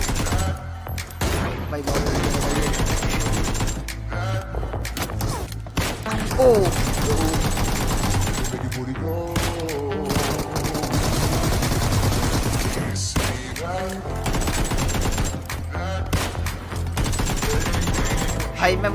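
Sniper rifle gunfire in the video game PUBG, sharp shots cracking repeatedly amid busy in-game noise, while men chat excitedly over the action.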